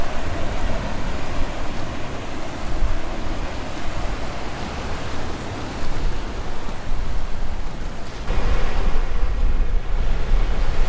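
Steady roar of small ocean surf rolling in at Pōka'ī Bay, Waiʻanae, a broad continuous wash with some wind noise, swelling slightly louder toward the end.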